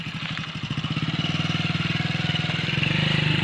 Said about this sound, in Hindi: और अब बाइक को उस तरफ से घुमा करके ला रहे हैं।